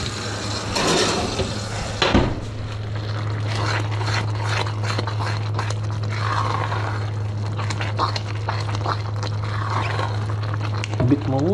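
Water is poured into a pan of 'nduja and chicken risotto, bubbling and sizzling against the hot rice, with scraping and stirring sounds and a steady hum underneath.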